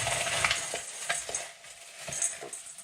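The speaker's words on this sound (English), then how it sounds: "What you're trying to do is break all the long leftover pieces down into small little chunks" Dried leftover spaghetti being broken by hand into small chunks, a dense close crackle of brittle snapping and rustling pieces that swells and fades in short bursts, with no talking.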